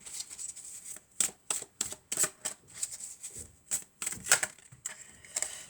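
A deck of tarot cards being shuffled by hand, with repeated crisp riffling bursts in an irregular rhythm, close and fairly clear, with no talking over it.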